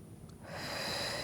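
A few deep breaths taken during a stretching and mobility routine, a quiet intake followed by a steadier, louder breathy exhale, close to the microphone with no talking.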